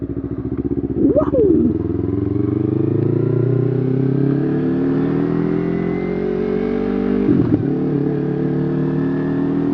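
A Yamaha YZF-R3 motorcycle engine idles with a rough, throbbing rumble, then revs up briefly and settles back, close by and loud throughout.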